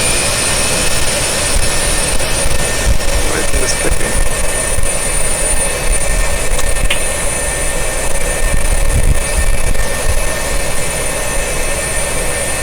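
An F-4J/S Phantom II jet engine spools up during start in a flight simulator, a loud, steady turbine roar and whine filling the whole stretch, with a brief spoken comment over it.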